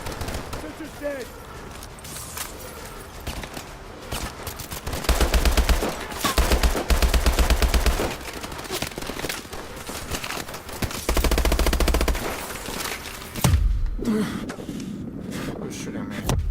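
Rapid automatic gunfire in the video game Call of Duty: Advanced Warfare, loud bursts and sustained volleys coming in waves with heavy low thumps, mixed with game effects and occasional talking.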